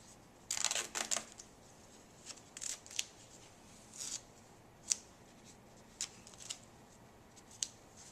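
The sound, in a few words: adhesive tape being pulled and applied to secure IV tubing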